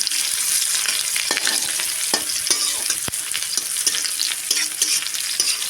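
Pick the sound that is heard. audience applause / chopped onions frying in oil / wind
chopped onions frying in oil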